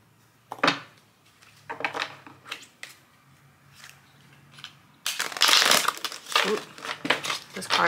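Tarot cards being shuffled by hand, a series of short papery riffles and crinkles early on, then a louder, denser stretch of shuffling toward the end, close to the microphone.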